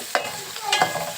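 Onion rings and a few chili pepper pods are stirred in a pan of hot oil, giving a brief quiet scrape and soft sizzle with a couple of sharp clinks.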